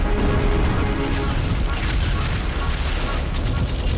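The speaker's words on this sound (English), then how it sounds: "Artillery fire of a hitherto unimagined intensity rolled and thundered on our front" An artillery barrage during the Somme offensive sounds as a dense, continuous, loud roar of rolling booms with no break.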